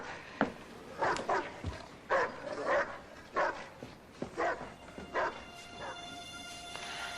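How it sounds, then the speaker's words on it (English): A dog left alone at a house barks in repeated bursts, about a dozen loud yips and barks in an uneven rhythm, close by, with brief whimpers between and no talking. "I gotta do something about that damn dog."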